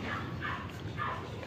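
A dog gives a few short, soft barks or yips in quick succession, somewhat distant and muffled, while being given water to drink.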